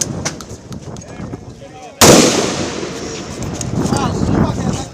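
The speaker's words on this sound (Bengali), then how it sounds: "ম্যাগজিনের পর ম্যাগজিনের গুলি চলে শিক্ষার্থীদের উপর।" Police open fire on students in a Dhaka street: one sharp, loud bang cuts through crowd noise and voices, followed by a sustained roar of commotion.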